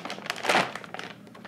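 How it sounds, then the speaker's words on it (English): Half-mask respirator being placed into a plastic bag, giving a short burst of close crinkling and rustling plastic that peaks briefly, with softer handling rustles before and after. "place the whole thing into the plastic bag"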